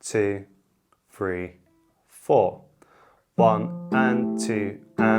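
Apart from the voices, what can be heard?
No distinct noise like a dog, phone or traffic.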